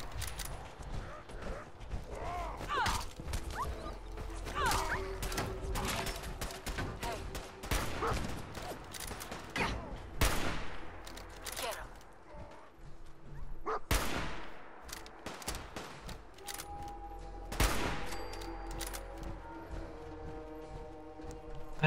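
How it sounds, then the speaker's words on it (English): Enemy gunfire in Fallout 4 combat: sharp, loud broadband bursts crack out repeatedly over a busy game soundscape of tones and effects, with scattered shots and rattles throughout. "This dude just keeps shooting me."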